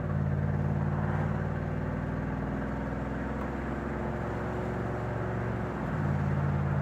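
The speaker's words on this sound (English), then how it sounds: "Shifting through all the gears as it should." A 1973 Buick Centurion's big engine drones steadily from inside the car as it shifts through the gears, holding a continuous low hum with a brief dip and change in pitch near the end.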